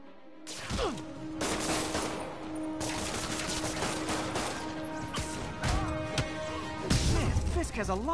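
Gunfire rattles in a Spider-Man PS4 game scene, a run of rapid shots and crashing impacts mixed with voices and scored sound, with a louder burst toward the end.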